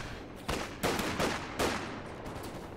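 Gunfire in a strategy video game rattles out in a few separate sharp bursts aimed at an enemy squad, fairly faint, with short gaps between volleys and no talk.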